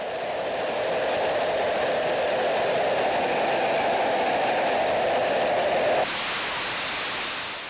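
A fighter jet engine running on a test stand at an aircraft maintenance depot, a loud, steady, roaring broadband rush that holds without pause and shifts in tone near the end.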